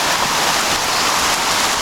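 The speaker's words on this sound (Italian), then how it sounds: "resta comunque la pioggia" Steady heavy rain falling in a fossil canyon just after hail has stopped, a dense, constant hiss and patter close by with no pauses and no other sounds.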